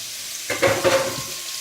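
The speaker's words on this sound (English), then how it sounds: "Now I'm gonna fry this in here, and I'm gonna add it on top of the noodles." Vegetables for ramen noodles hitting a hot pan, a short burst of sizzling and frying that flares up suddenly and then settles into a steady hiss, close and clear with no speech.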